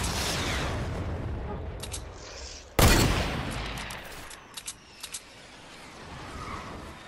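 Gunfire from an egg-launching weapon in Fortnite: a steady rumbling burst of shots, then one sudden loud blast with a trailing decay, followed by a few quick sharp pops, with speech now and then.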